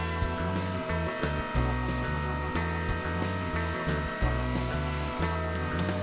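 A CNC router with a 3/8-inch radius round-over bit, bearing removed, shapes the edge of a guitar body, giving a steady, loud motor whine with repeating rhythmic pulses as the cutter follows the contour.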